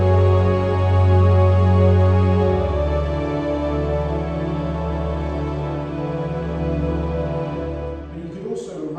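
A Korg Mono/Poly four-voice analog synthesizer holds sustained, rich pad chords, warm and buzzy, shifting from one chord to the next and fading near the end.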